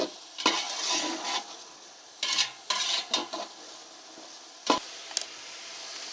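Rice for Kabuli pulao fries in stock over a high flame with a low sizzle. Bursts of spoon scraping against the pot come in irregular clusters, separated by quieter stretches of frying.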